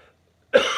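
A single sharp cough from a man out fishing on a river, close and abrupt, breaking a moment of near silence.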